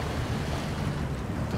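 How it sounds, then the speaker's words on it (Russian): Dense, steady rushing and churning of water splashing around a truck wheel driving through mud and water in SnowRunner, continuous and close with no pauses. "Ой, слушайте, а как вода красиво наматывается на колесо."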